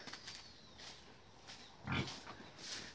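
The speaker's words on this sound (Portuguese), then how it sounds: "Aí o Ita tá indo lá pegar o mamão pra dar pros porcos ali que caiu" Pigs on a farm grunting and squealing in short, fairly faint bursts, with one louder squeal near the end of the stretch over a quiet outdoor background.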